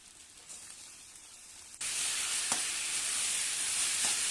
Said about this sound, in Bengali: ম্যারিনেট করে রাখা মাংসকে কড়াইয়ে দিয়ে দিলাম।